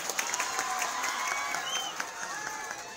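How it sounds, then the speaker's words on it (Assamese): Audience clapping steadily at a magazine launch event, a crowd's applause spread evenly through the whole stretch, moderately loud, with a few sharper claps standing out and faint voices mixed in. "এটা হাত চাপৰি দিয়ক খুব ধুনীয়াকৈ"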